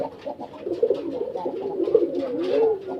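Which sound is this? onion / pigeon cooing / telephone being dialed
pigeon cooing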